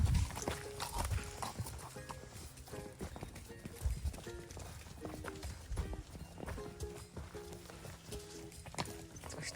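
A horse galloping in a mountain pasture, with rapid rhythmic hoofbeats over constant outdoor background, moderately distant and fairly faint, with no clear voices.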